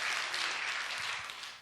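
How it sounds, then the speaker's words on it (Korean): A church congregation claps for a deaconess, a moderately loud, even wash of applause that tapers slightly toward the end. "박수 한번 쳐드려야 되겠어요"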